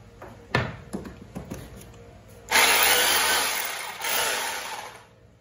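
A secondhand 220 V Bosch three-function concrete drill, missing its label, gives a few short clunks, then whirs loudly and steadily for nearly three seconds, dipping briefly before stopping.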